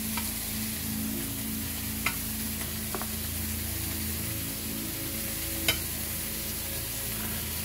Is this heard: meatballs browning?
yes